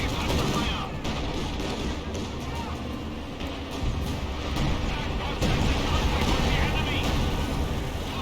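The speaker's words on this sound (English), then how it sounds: "Artillery flare has been called on in." Dense battlefield din in a World War II strategy game after an artillery flare is called in, with continuous heavy gunfire, explosions and rumbling impacts blending into a loud, unbroken wall of combat noise.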